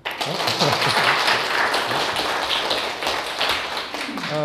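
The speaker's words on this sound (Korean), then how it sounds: "제 평가 받는데 동의하시면 박수 한번 해주시겠습니까?" An audience claps on request during a lecture on the Analects, a loud, dense, sustained round of applause filling the room for several seconds.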